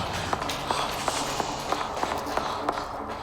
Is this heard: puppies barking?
no